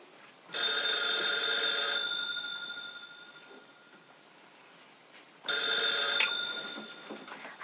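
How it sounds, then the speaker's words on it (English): An old-fashioned telephone bell rings in two long bursts, each lasting over a second with a bright, steady metallic tone, separated by a pause with faint room noise. Close and clear, with no voices over it. "Your phone's ringing. It's ringing there."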